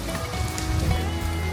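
Rain patters steadily at a temple in Harajuku, Tokyo, a soft, continuous hiss of drops on nearby surfaces, fairly quiet and with no voices.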